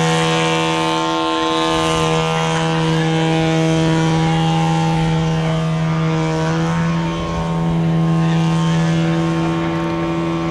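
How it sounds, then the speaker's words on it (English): A 50% scale Christian Eagle model airplane with a 22 hp engine, hovering on its propeller at an air show; a loud, steady buzzing engine drone with strong harmonic whine, sustained throughout with slight swells. "22 horsepower engine holding that big airplane up there."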